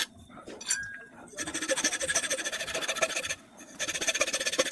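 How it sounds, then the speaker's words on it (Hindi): Metal file rasping a bent piece into a round shape, with steady rhythmic back-and-forth strokes in two long bursts separated by a brief pause, preceded by a few light clinks. "मैं इसको राउंड शेप देने के लिए फाइल का यूज़ कर रहा हूँ, मतलब रेती का यूज़ कर रहा हूँ।"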